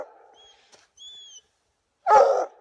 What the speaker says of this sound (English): A hound dog that thinks there's a cat in this tree.